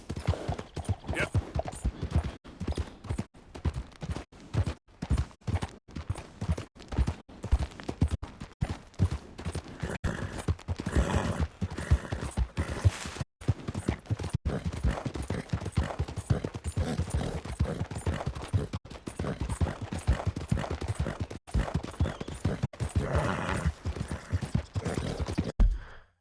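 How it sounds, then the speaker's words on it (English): Horse hooves clip-clopping steadily in Red Dead Redemption 2, a continuous, close, rhythmic trot on a road, with brief faint voices and a few sharp bursts along the way. "Hey, that's a nice-looking horse you have there."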